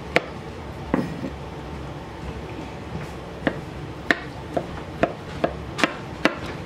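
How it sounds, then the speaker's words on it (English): Knife chopping ingredients for macaroni salad on a cutting board, with sharp irregular chops, sparse at first and then quickening into a brisk series of close, crisp strikes over low background noise. "the idea is to first get most of them chopped in half"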